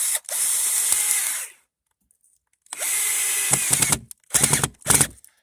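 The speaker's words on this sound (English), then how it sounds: "So we got the drill gun again. We're doing those little short screws." A Black & Decker 20 volt battery drill drives short screws in bursts: one long run, a pause, another long run, then two quick short bursts, loud and close.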